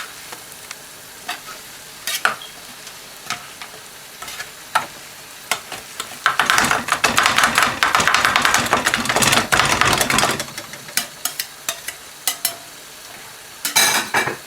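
Kidney and chops taka tak, Lahore street food, mixed on a hot griddle: a steady sizzle swells into a loud, dense stretch of scraping and clattering metal spatula strokes, with sharp taps before and after.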